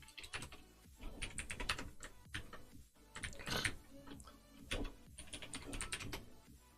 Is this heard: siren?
no